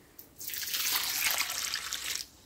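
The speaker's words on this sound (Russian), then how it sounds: "Наливай сюда, наливай" Water poured out for planting basil and seedlings: a single continuous bright splashing pour lasting about two seconds, swelling in quickly and cutting off sharply, close and clear with no talk over it.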